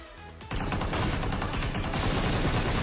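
Sustained rapid automatic gunfire erupts after a brief moment and continues loudly without pause, dense and crackling.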